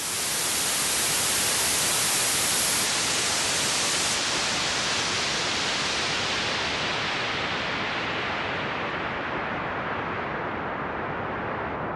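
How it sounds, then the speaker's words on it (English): Loud, steady white noise hiss whose bright top end gradually dulls as a filter sweeps downward, leaving a darker, muffled rush by the end. "here's our white noise, and as we play that and then bring the filter down"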